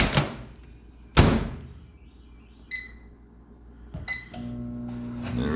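A newly installed microwave's door shuts with a sharp thump near the start of a kitchen setting, followed by a few beeps and a low hum as the oven runs.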